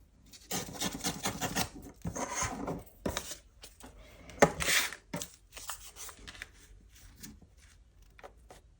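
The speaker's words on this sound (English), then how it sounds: "I'm going to tear that edge off." Paper being torn by hand while making a Christmas envelope and tag, a series of close, dry ripping and rustling bursts with short pauses between pulls.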